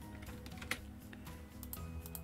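Quiet, close clicks of computer keys being pressed for a Control B editing shortcut, a few soft taps over faint background hum.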